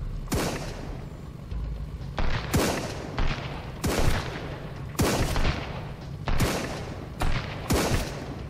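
Gunshots ring out in the survival game Sunkenland: a series of loud, sharp blasts spaced about a second apart, each with a booming tail, and no voice over them.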